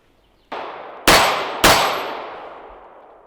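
Staccato P pistol fitted with a Dawson Precision compensator fired three times outdoors, sharp loud cracks about half a second apart, each trailing off in a long ringing echo.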